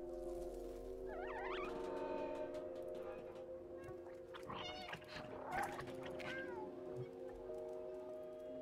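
A cat in the video game Stray gives a couple of clear, rising meows near the start, set over steady game music and ambient hum, with a few softer cat vocal sounds later in the scene.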